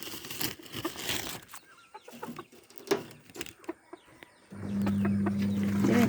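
Chickens clucking and squawking as their coop is opened, several birds calling in short irregular bursts nearby, followed by a steady low hum near the end.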